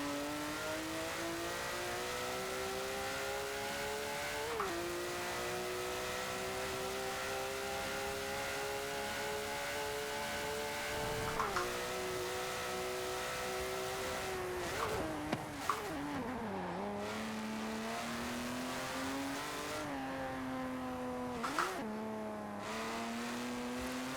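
A Porsche 917 LH race car in Forza Horizon 4 holds a loud, steady high-revving engine drone with a sharp harmonic whine. It dips briefly at gear shifts and wavers with rev changes throughout, with no talk.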